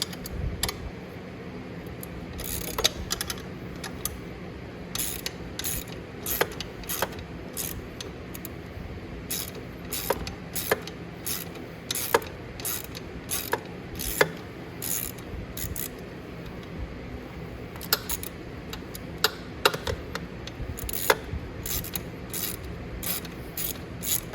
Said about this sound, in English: I'm just gonna take out all these bolts